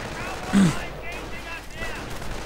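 A Calliope rocket barrage landing on Volksgrenadiers in a war video game, a loud burst of blasts followed by scattered fainter booms and whooshes under a steady background din.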